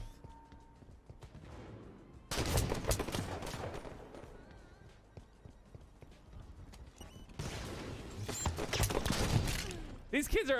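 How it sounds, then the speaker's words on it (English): Gunfire from a competitive 2v2 match of the video game Halo 5 comes in two dense stretches of rapid shots and booms, with quieter game sounds in between. "This guy's getting shot at and I don't know where from."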